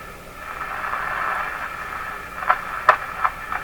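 Shortwave static hisses from an RCA Victor 5T5 radio tuned near 15 megahertz, a steady faint wash of noise broken near the end by a few short crackles.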